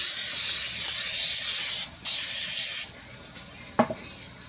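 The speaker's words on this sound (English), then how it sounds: "take the butter cooking spray and you're going to spray the top of" A butter cooking spray hisses in two steady bursts with a brief pause between, then stops, followed by a light clack of the can.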